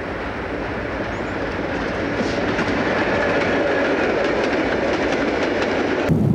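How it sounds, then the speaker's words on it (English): An Erie Lackawanna Phoebe Snow passenger train hauled by three locomotive units rolls past on steady clickety-clacking wheels, a loud, continuous rumble that builds slightly before cutting off abruptly. "This is from Route 80, the Phoebe snow. Three units for a big train."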